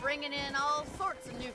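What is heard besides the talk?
None of the usual background noises is heard.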